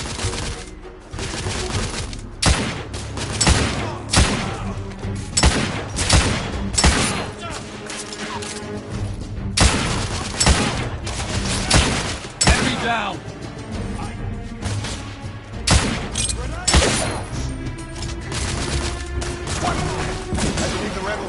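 Sustained gunfire in the video game The Order: 1886, rapid dense volleys of shots and impacts for about twenty seconds, with voices shouting over the fighting.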